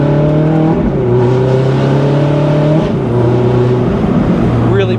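A 2007 Ferrari F430 Spider engine revs loudly and continuously up close as the gearbox shifts, the steady roar dipping briefly at each change.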